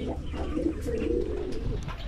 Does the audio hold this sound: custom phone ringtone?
no